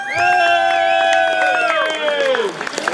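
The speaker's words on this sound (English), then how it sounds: "Okay, big round of applause for these guys." A crowd applauds and cheers for polka musicians at an annual fall bonfire dance while a sustained band chord rings out over the clapping, then fades near the end.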